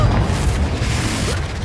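A Confringo blasting spell in Hogwarts Legacy lands as a deep, rumbling boom that fills the moment with a sustained low roar, loud and close, with no pause or quiet.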